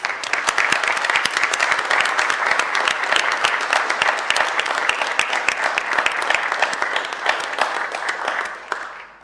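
Council members give a round of applause at a meeting, steady dense clapping from many hands that holds evenly for several seconds before cutting off, with no talk over it.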